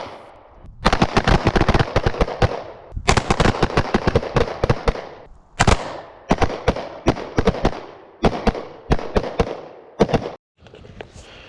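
Pistol fire from a CZ P10 at a shooting range: rapid strings of loud, sharp shots in quick bursts separated by brief pauses, close and dominant with no speech.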